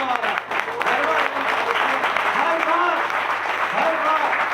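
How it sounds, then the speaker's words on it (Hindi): Sustained applause from a seminar crowd in a hotel hall, with a voice speaking over the continuous clapping. "इतनी तालियों से कुछ नहीं होने वाला,"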